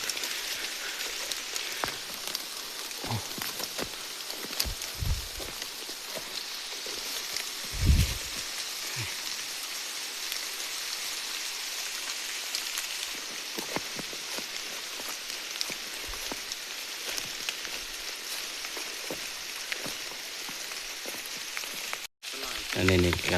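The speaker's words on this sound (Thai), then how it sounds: "ฝนตกแรงนะ" Heavy rain falls on a forest during a hike, a steady dense hiss of drops on leaves and ground with a few louder thumps and splashes close by, continuing without a break.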